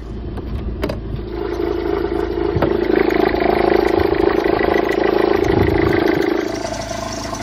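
A Peugeot 206 with seized rear suspension cranks with a few clattering turns, then catches and settles into a steady, loud engine run up close, holding an even idle to the end.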